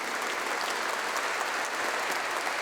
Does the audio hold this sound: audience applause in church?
yes